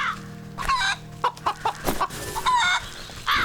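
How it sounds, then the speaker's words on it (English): Chickens cluck repeatedly in the farming game Wytchwood, a string of short, fairly close squawks and clucks with a faint steady hum underneath and no talking. "We have to manually grab the chickens"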